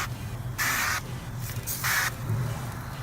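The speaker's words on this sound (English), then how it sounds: "we're going to spray some more of this olive oil on it." Olive oil is sprayed from a pump bottle onto a turkey breast in a smoker, giving three short hissing bursts of about half a second each over a low background rumble.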